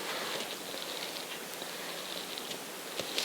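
Rain in the Minecraft video game patters as a steady hiss with a few light taps, heard alone without speech.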